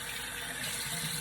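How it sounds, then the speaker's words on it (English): Cold tap water running steadily while a face is rinsed at a sink, a constant close splashing wash with no talking. "So I'm rinsing with cold water."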